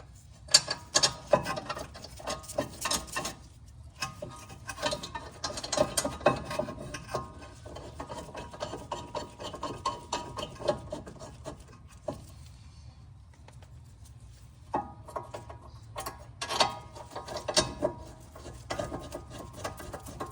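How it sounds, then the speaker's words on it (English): Ratchet tightening two 17mm rear brake caliper bracket bolts on a 2016-2021 Honda Civic, heard as repeated bursts of fast metallic clicking with short pauses between them, close by and moderately loud, with no talking. "now we'll install our bracket back, two 17mm bolts"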